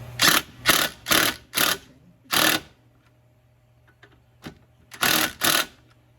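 Coil spring compressor being tightened on a Cherokee during a 3-inch lift spring install: about eight loud, sharp bursts of rapid mechanical whirring, mostly in an uneven cluster, with a steady low hum between them.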